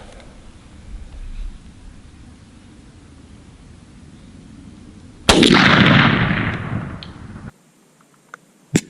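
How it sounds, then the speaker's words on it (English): Shotgun loaded with turkey hunting ammunition, a Winchester Longbeard XR or Federal TSS load, fires once outdoors with a single loud, close blast that rings and decays over about two seconds after a quiet wait. "I don't shoot that often, but I just shot 2 different styles of loads"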